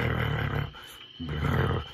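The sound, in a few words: lion roar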